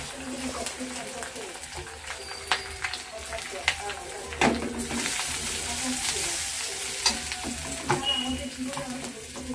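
Ginger frying lightly in a pan for khichuri, a soft continuous sizzle broken by scattered crackles and stirring scrapes, with someone talking over it.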